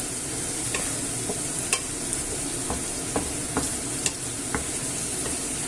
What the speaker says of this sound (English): Okay, this is frying up nicely.